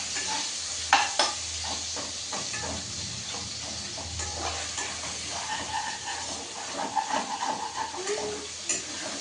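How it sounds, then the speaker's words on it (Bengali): Mixed carrot and capsicum fry in a pan, with a steady hissing sizzle and scattered scrapes and taps of a stirring spoon, some of them louder near the end. "এর মধ্যে আমি মিক্স গাজর ক্যাপসিকাম একবারে দিয়ে ভেজে নেব।"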